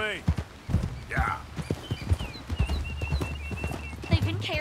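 A horse's hooves pound in a steady, rapid rhythm as it gallops in Red Dead Redemption 2. The hoofbeats stay close and prominent while characters talk over them.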